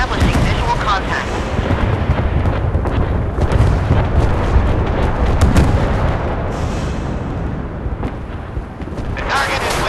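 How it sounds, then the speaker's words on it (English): Missiles launching and striking targets in the naval combat game Force of Warships, a continuous loud barrage of booms and blasts running dense through the whole stretch, with game voice announcements mixed in. "Missiles launched. I see a hit on the target."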